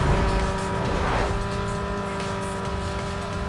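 Steady loud car engine roar from a Need for Speed Most Wanted street race, holding a sustained drone with a brief tire squeal or skid flaring near the start and no talking.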